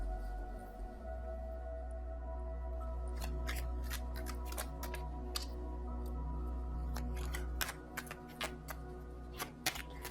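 Tarot cards being shuffled in a series of quick crisp riffles and flicks over a low steady hum, close and fairly quiet, with no talk.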